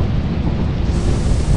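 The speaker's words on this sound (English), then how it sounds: "Why is it raining?" Steady rain with a deep rumble of thunder in the video game Lethal Company, a loud, dense wash of noise with no speech over it.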